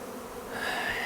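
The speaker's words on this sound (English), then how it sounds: "There is so many bees." A large honey bee swarm buzzes in a dense, continuous hum, steady and close, with no voices.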